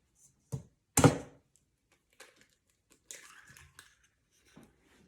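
An egg cracked against the rim of a bowl of dough ingredients with warm water and yeast: two sharp close knocks, then a brief crackle of shell and faint rustling afterward.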